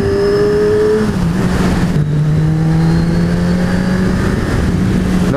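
A 2017 Kawasaki Z1000 motorcycle accelerating hard through the gears, its engine note climbing in pitch, dropping at each shift, then rising again, loud and close with rushing wind noise.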